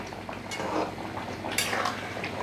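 Coconut chicken curry made with local free-range chicken and green chilies, stirred in a pot with soft metal clatters and scrapes over a gentle bubbling simmer, close and fairly quiet.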